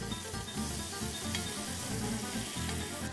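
Veal kidney sears in a hot pan, crackling and sizzling steadily with dense bursts of spattering fat, close and continuous, with no talking.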